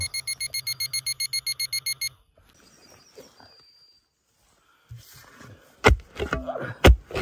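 A pinpointer metal detector's rapid, steady electronic beeping pulses for about two seconds, then stops; rustling and a few sharp knocks follow.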